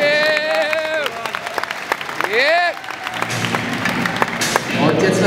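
Audience applause and crowd noise at a European freestyle football qualifier event, a loud steady wash of clapping mixed with shouting voices and whistle-like tones, with an announcer talking over it.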